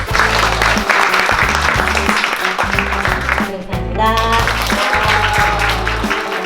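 Applause welcomes a speaker at a Korean youth performance camp, mixed with a thumping, rhythmic bass-heavy music track that pulses under the clapping and briefly drops out midway.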